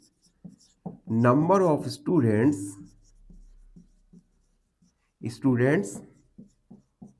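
A pen writing on paper during a sixth-grade math lesson on data handling: short, faint scratchy strokes and taps come between and under a teacher's speech.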